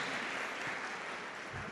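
A church congregation applauding at a thanksgiving Mass, a dense, even wash of clapping from many hands that holds steady throughout the short stretch.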